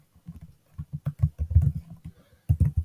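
Someone types on a computer keyboard in short irregular bursts of soft, close key taps, pausing briefly before a final quick flurry, with no talk.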